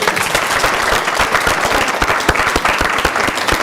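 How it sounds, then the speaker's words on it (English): Audience clapping loudly and fast at a talk, a dense, energetic, continuous burst of many hands with sharp individual claps standing out. "can we clap on fire, people?"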